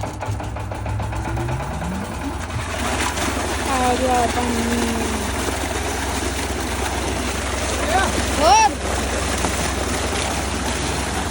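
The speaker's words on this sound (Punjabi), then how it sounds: "ਹੁਣ ਪਾਪਾ ਚਲਾਉ ਇੰਜਨ" A farm water-pump engine runs steadily at a low, constant drone through the whole clip while people talk and call out over it outdoors in a Punjabi field setting.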